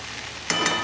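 Chopped okra stir-frying in a pan over a high gas flame, a steady close sizzle that surges briefly as the vegetables are tossed.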